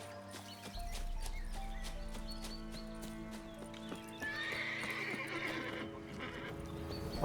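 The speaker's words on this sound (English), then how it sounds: "Why is this horse hostile?" Hostile horse in The Witcher 3 video game neighing and whinnying over steady clip-clopping hooves, with a loud shrill whinny in the middle, close and without speech.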